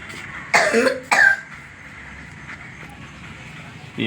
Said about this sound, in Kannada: ಕೆಮ್ಮು ಸ್ಟಾರ್ಟ್ ಆಗ್ಯದ ರೀ